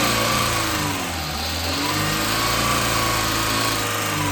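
A Maruti Eeco car's petrol engine idles and revs steadily after being started, a loud, continuous mid-pitched drone with fluctuating engine tones, close and alone with no voices.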